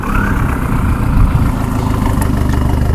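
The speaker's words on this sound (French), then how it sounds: "Donc là on va la démarrer." A stage 2 Audi A3 diesel engine idles close by with a steady low clattering rumble and faint vibration, no voices over it.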